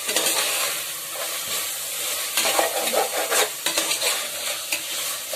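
Green peas and masala stirred and sautéed in a pan, a steady sizzling hiss broken by repeated scraping strokes of the spoon, close and fairly loud with no voices.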